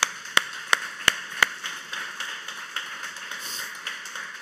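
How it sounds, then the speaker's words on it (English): Four crisp, evenly spaced hand claps ring out at a church gathering as a couple is welcomed to the stage, then give way to softer, scattered clapping that trails off. "I would encourage you to give them a huge round of applause"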